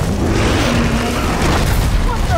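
A grenade explosion in Gears of War 4, heard as a loud, dense boom with rumbling low end that fills the whole short moment, close and overpowering.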